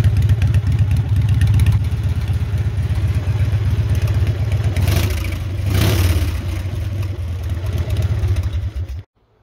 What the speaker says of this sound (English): The exhaust sounds way better, in my opinion.